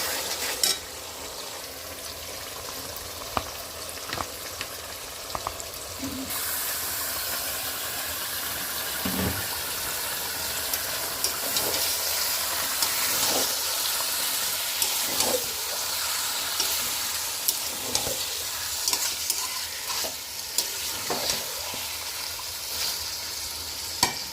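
Mutton pieces frying in spiced masala in a pan, a steady close sizzle with occasional stirring scrapes and clinks of a spoon against the pan, no talking.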